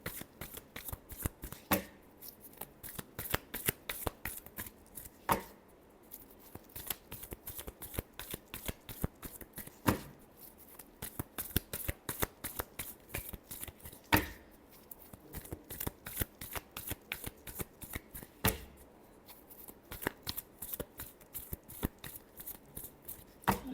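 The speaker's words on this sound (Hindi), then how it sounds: "Last shuffle." A deck of tarot cards being shuffled during a reading, with steady riffling and slapping card sounds repeating for about twenty seconds, close and fairly quiet, with no talking.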